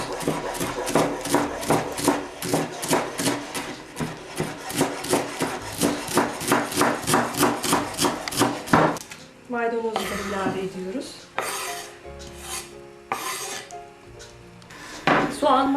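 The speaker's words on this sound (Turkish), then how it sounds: "Dereotundan sonra maydanozu da aynı şekilde ince kıyarak devam ediyoruz." Parsley being finely chopped with a knife on a board: rapid, even taps that keep a steady rhythm for about nine seconds, then give way to irregular kitchen clatter.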